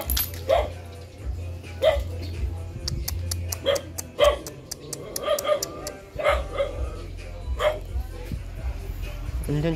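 A dog barks repeatedly at a house in the Philippines, sharp yips and barks scattered at irregular intervals and heard at moderate distance, with people talking over much of it.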